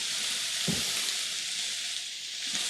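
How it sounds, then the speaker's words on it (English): Sausage sizzles and fries in a hot pan while cooking penne pasta, a steady loud crackling hiss with a couple of brief low knocks as it is stirred. "Really sizzling here."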